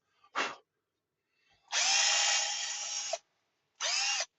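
A power grinder strips rust from a part of an original Tamiya Madcap RC car. It runs in three separate bursts, a short buzz, a longer steady whine of about a second and a half, then a final short run, close and alone.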